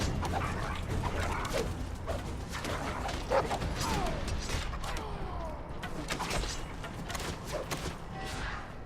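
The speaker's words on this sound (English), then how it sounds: "Send my dog off to attack the other guy." A dog sends up barks, yips and whimpers in a Game of Thrones video game, the sound carrying over busy game effects and creaks, with the dog's voice standing out at intervals across the scene.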